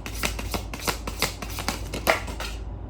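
Tarot cards are shuffled by hand, close and steady, with a quick series of riffling flicks ending in a soft tap as cards are drawn.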